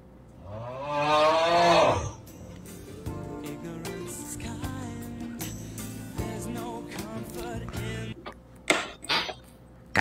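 Cows moo in a video game, starting with a loud, drawn-out low moo and followed by a busy stretch of overlapping animal calls, clicks and game effects that ends in sharp bursts.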